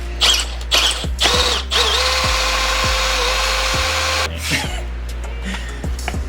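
A power drill whirs in a sustained burst during installation of ICON coilovers on a 2022 Ford Bronco. Sharp metallic clanks and knocks from the parts come before and after it, close and loud.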